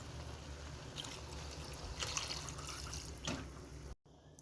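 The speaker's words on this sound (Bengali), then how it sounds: "এখন আমি কিছুটা দুধ অ্যাড করব" Milk pours into a pan of chicken curry with a close, steady liquid splash and trickle, swelling around the middle and then cutting off abruptly near the end, with no voices.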